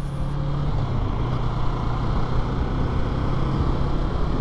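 Yamaha MT-03 motorcycle engine droning steadily while riding, a continuous loud rumble with wind noise and no clear rev changes.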